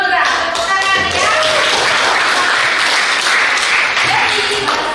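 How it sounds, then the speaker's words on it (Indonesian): Classroom applause for a correct answer during a food-safety lesson, a group clapping steadily and loudly while people keep talking over it. "Tepuk tangan ya."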